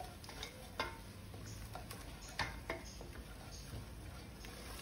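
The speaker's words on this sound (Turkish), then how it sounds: "Şimdi içerisine 1 su bardağı un ekliyorum ve unun kokusunun gitmesi için 2 dakika kadar kavuruyorum." Flour roasting in butter in a pan hisses softly while a utensil stirs and taps against the metal now and then, a quiet, steady sizzle with light scraping clicks close by.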